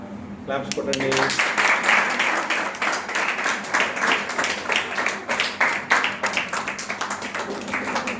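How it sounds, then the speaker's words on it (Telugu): Hands clap together repeatedly at a family baby's first-rice ceremony, a dense patter of applause continuing throughout, mixed with chatter and voices of people talking nearby. "క్లాప్స్ కొట్టండి."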